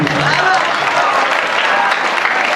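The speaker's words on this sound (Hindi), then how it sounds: "एक बार बजा दीजिए जोरदार ताली" Loud, dense applause from a school audience at a Krishna Janmashtami 2023 celebration at JNV Chandauli fills the hall steadily throughout, with crowd voices mixed in.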